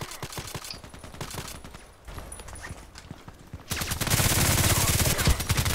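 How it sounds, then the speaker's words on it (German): Rapid bursts of automatic gunfire from the video game Contract Wars, sharp repeated shots that grow louder and denser toward the end, with a player voice talking over parts of it. "Ganz schön viel schießen hier."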